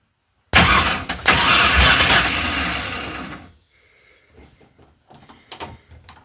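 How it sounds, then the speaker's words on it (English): A small-block V8 engine with big-block rocker arms is cranked over by its starter in a garage, a loud steady churning for about three seconds that stops abruptly, followed by faint clicks and rattles. "You're going to spin the motor over a few times."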